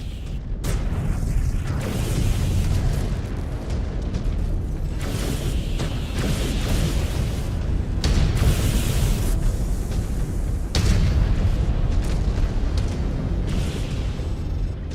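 Explosion of a destroyed target in the MechWarrior 5 Clans video game: loud, rumbling booms and bursts rise out of dense, continuous battle noise and mechanical clatter throughout.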